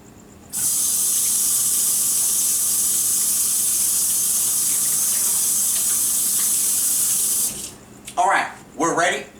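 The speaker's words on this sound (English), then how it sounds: "first thing I want to do before starting to cook is wash my hands" A kitchen tap runs in a loud, steady rush while hands are washed beneath it, then cuts off, followed by a few brief splashes and shakes and a voice speaking at the end.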